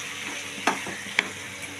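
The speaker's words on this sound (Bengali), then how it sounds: "কড়াইতে দিয়ে এবার একটু ভালো করে কষিয়ে নেব" Chicken do pyaza sautéing in a wok, a soft steady sizzle broken by two sharp scraping clicks of the stirring utensil against the pan, faint and close.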